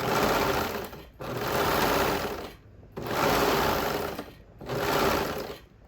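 A serger sewing machine stitches elastic onto a swimsuit in four loud bursts of rapid whirring, each separated by a short pause.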